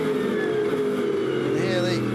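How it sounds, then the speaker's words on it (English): Onboard a GT race car in the Blancpain GT Series at Budapest, a steady loud engine roar from a German front-mounted engine carries a sustained transmission whine, with a rising pitch shift near the end under continuous commentary. "hear the whine of the transmission, the roar of that German engine up front"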